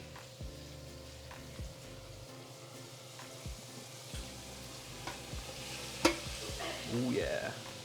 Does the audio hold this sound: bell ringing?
no